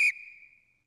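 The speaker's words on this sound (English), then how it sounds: "forgot to blow the whistle" A single sharp whistle blast in the Stardew Valley video game, a bright shrill tone that starts loud and trails off over under a second, heard alone.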